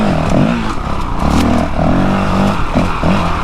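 A Honda CRF450RL dirt bike on a trail revs its throttle in repeated on-off bursts, the engine note rising and falling loudly and close with a rough, clattering edge.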